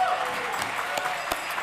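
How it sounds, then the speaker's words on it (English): An audience at a media awards ceremony gives quiet, scattered applause, with a few sharper claps standing out from the soft, distant patter. "Give them a round of applause anyway."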